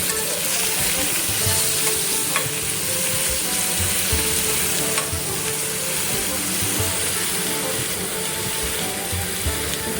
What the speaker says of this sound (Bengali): এঁচোড়টা একটু লাল লাল করে ভেজে নিতে হবে